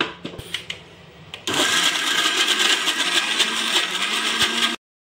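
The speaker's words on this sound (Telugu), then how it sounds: "కాచి చల్లార్చుకున్న పాలను కొద్దిగా వేసి గ్రైండ్ చేస్తూ ఉన్నాను ఫ్రెండ్స్" A mixer grinder blends beetroot pulp with boiled, cooled milk, starting with a brief knock before a loud, steady whirring roar that runs for a few seconds and then cuts off abruptly.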